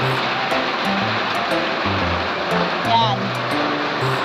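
Rain pours down at midday in a steady, dense hiss that fills the whole stretch, while a voice speaks over it.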